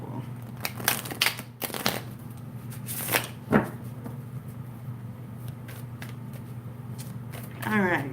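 Cards are riffled and shuffled in several quick bursts close to the microphone, separated by short pauses over a quiet background hum.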